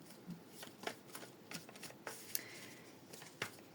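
Tarot cards shuffled for a zodiac reading, a steady run of soft riffling and papery slaps with a few sharper snaps, close and fairly quiet, with no voice.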